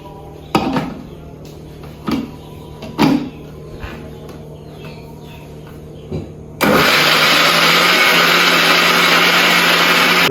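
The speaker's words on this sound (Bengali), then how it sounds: "এখন রসুন ব্লেন্ড করতে হইব" An electric kitchen blender grinds garlic. A few knocks and clatters of handling come first, then the motor starts abruptly and runs in a loud, steady, high whine to the end.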